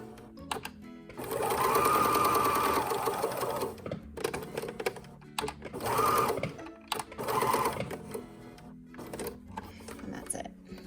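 A sewing machine back stitches a twist headband, its motor whirring in loud bursts of varying length separated by short pauses and clicks, with a voice faintly underneath.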